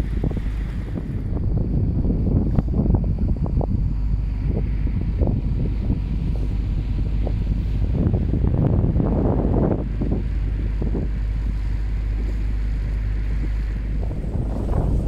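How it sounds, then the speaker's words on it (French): Strong wind of about 18 knots buffets the microphone in a steady low roar, with gusty bursts and faint water sounds from a boat underway; no one speaks. "Attention le vent, attention les oreilles."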